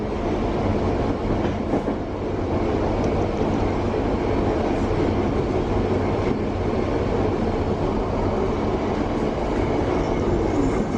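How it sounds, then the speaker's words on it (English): London Underground Bakerloo line train running near North Wembley, a steady loud rumble of wheels and carriage noise with faint rattling throughout, no voices. "This is the Bakerloo line train to"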